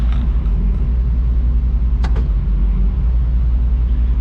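A 2004 Chevy SSR's 5.3L LS V8 idles with its transmission in gear, a loud steady low rumble close to the listener, broken by a short sharp click or clunk midway.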